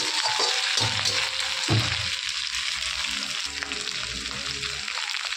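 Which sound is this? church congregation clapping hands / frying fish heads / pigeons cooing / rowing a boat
frying fish heads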